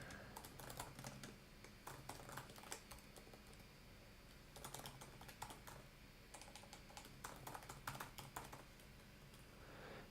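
Steady typing on a computer keyboard, with irregular bursts of key clicks in quick runs and brief pauses, close and clear, with no speech.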